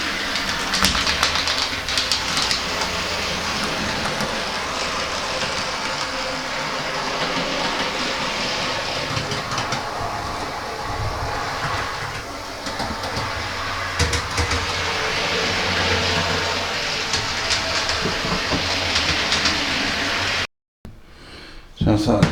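An OO gauge model train runs along a newly ballasted line on an 8x4 modular traction maintenance depot layout, giving a steady, close rolling rumble that continues without a break, with faint voices in the background.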